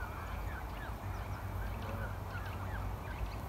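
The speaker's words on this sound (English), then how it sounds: "There's probably 100 birds here." A large flock of geese on a canal, with overlapping honks and calls rising and falling continuously at moderate distance over a steady low outdoor rumble.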